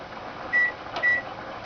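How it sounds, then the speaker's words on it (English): Microwave oven humming steadily while melting butter, with two short electronic beeps near the middle and no talking. "So go ahead and put that in the microwave as well."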